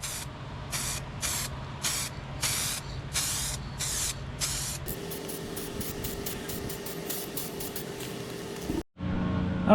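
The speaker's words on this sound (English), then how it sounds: "Dry for a little bit and start applying the paint." Paint spray gun applying coats to a car's rear bumper, sounding as a string of short, loud hissing bursts that give way to one long steady spray with a fainter hum beneath, then a brief cutoff.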